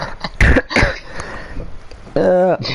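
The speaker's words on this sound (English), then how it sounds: "just a little cough" A short, light cough from a race commentator in a sim-racing league broadcast: a couple of quick rough bursts near the start, followed a moment later by a brief voiced sound.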